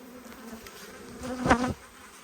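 Honey bees drone around an opened black beehive, a faint, low buzzing that swells into one louder close pass as a bee flies near, then fades back to a soft hum.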